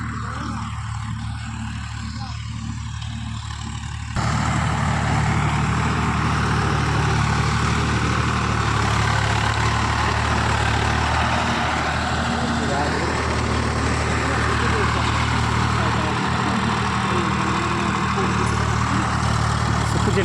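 Several tractors plough farm land together, their engines giving a continuous heavy drone that steps up louder after the first few seconds and stays steady, with voices faint underneath.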